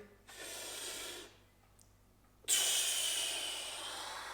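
Two long, forceful breaths heard up close during a kettlebell windmill exercise. The first is a steady airy exhale of about a second, then a pause, then a louder, sharper rush of breath that slowly fades.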